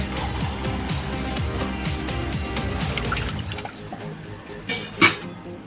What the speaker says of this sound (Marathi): थोडंसं पाणी टाकतं कमी